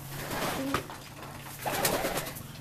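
Homing pigeons coo softly in a pigeon loft, two short bursts of low, throaty calls close by with faint rustling between them.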